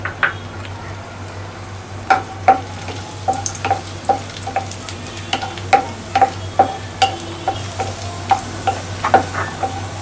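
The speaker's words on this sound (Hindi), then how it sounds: "अब मैं इसमें किशमिश तल के निकाल लूँगी।" Raisins frying in ghee in a pan for black-flour laddoos, a steady soft sizzle under a hum, punctuated by regular sharp clicks of a spoon stirring against the pan, no talk.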